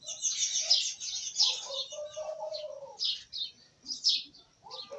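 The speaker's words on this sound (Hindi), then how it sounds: "जहाँ पर दरख्त होते हैं वहाँ पर चिड़िया ज़रूर होती हैं, परिंदे होते हैं, आवाज़ निकालते रहते हैं।" Small birds chirp and tweet in bursts among trees near a home, with a dove cooing between them, bright calls repeating close by against an otherwise quiet background.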